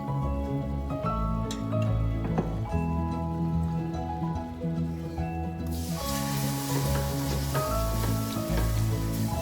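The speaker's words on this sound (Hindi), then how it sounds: "2 टेबलस्पून बटर लूँगी और स्टार्च डाल के इसको थोड़ा सा भून लूँगी" Butter and starch sizzle in a pan, a soft frying hiss that grows noticeably stronger partway through, heard under steady background music.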